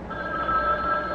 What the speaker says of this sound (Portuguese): Olha o telefone.